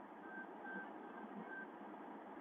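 Inside a car, a lane-departure warning gives a few short, evenly spaced electronic beeps, faint above a steady road and cabin rumble, with no voices.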